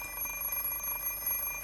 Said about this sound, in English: Words have no meaning for the alarm clock.